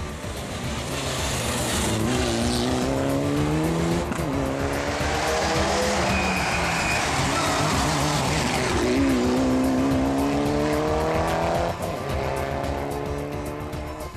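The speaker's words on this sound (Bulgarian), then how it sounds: "се стигне до участието на Григор Григоров в националния шампионат по планинско изкачване с Mitsubishi Lancer Evo 9." A Mitsubishi Lancer Evo 9 race car at the 2012 Blagoevgrad hillclimb, its engine revving hard and climbing through gear changes while tires squeal, loud and close throughout.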